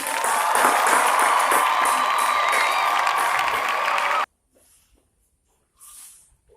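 A classroom of students claps and cheers together in loud, steady applause lasting several seconds, then stops abruptly, leaving near silence with faint stray sounds.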